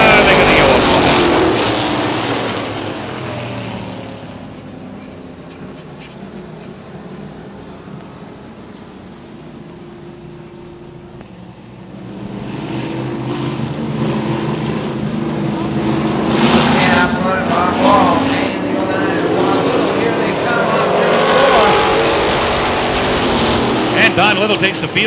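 Race cars at Star Speedway, New Hampshire, roar past in loud sweeping waves, fade briefly, then swell again as the pack returns, while a commentator talks over the noise.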